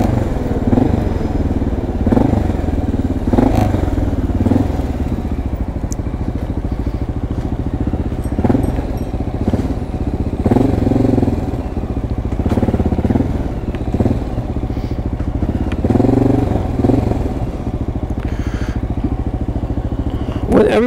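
XR650L motorcycle riding along 6th Avenue in New York City traffic: a steady, close single-cylinder engine drone with clattering and thumps from the road, while a rider talks over it throughout.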